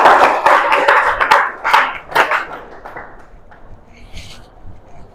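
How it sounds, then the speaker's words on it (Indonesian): Schoolchildren in a classroom clap their hands together, a loud burst of quick, uneven claps for about two seconds that thins into a few scattered claps and fades to quiet. "mari kita tepuk tangan untuk kita semua hari ini"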